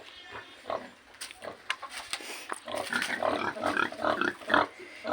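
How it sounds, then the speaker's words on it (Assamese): Several pigs grunt and squeal on a farm with pregnant sows and piglets, a busy run of close, repeated oinks that grows denser and louder toward the end. "এইকেইটা বাকী গাহৰি মেলা আছে"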